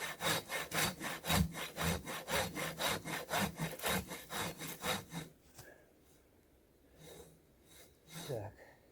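A hand saw cuts through birch wood outdoors in a fast, rhythmic run of close back-and-forth strokes, then stops, leaving a few quiet rustles and breaths.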